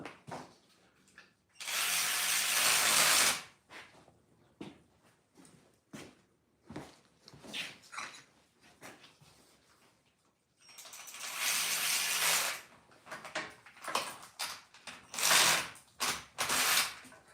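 Ratchet clicks while tightening a nut on the rear brake of an SSR 110 pit bike, coming in two longer loud bursts with short scattered clicks between them, close by.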